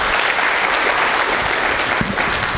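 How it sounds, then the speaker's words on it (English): Dense, loud audience applause fills the room at a talk on engineering and the mastery of space, a continuous wash of clapping with no break. "So one more round of applause."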